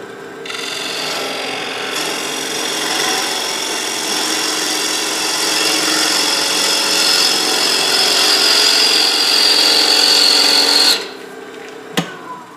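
A wood lathe turns an enclosed form while a gouge cuts it, giving a loud, continuous rasping hiss with a steady motor tone underneath. The cut stops abruptly near the end, followed by a single sharp knock.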